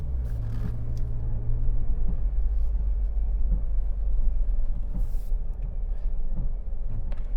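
A 2018 Suzuki Jimny driving off-road, a steady low engine rumble that stays close and constant throughout, with no voices.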